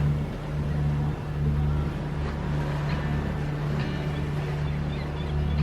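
A sailboat's engines drone steadily at sea, a low constant hum with faint wind and water wash, no voices.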